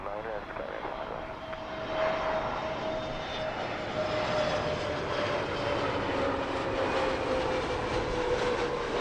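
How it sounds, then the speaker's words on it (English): A Malta Air Airbus A320 landing at Heathrow, heard as a continuous engine roar with a slowly falling whine, moderately distant and steady in level. "That was the Malta A320 touching down as smoothly as it could do."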